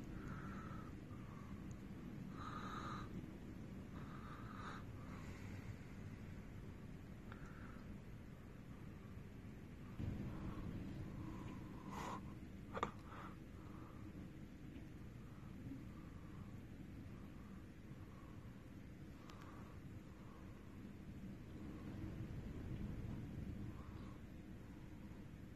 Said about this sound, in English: Just incredible gusts.